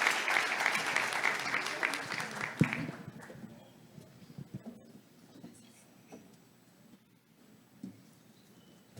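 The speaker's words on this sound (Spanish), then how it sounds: "Démosle otra vez un aplauso a la doctora Kachuk" An audience at a Spanish-language science and innovation conference applauds a doctor, a strong burst of clapping that fades out after a few seconds into quieter room noise and scattered sounds.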